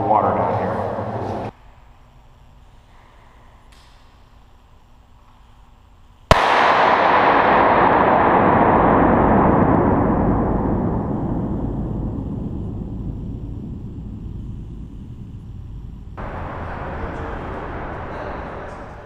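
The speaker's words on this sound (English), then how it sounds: "The Bay Bridge's acoustic signature will go down in Hollywood history." On the Bay Bridge, a sudden sharp metallic bang rings out after a quiet stretch, then a long, loud roaring decay that slowly fades over many seconds, recorded by a film sound crew.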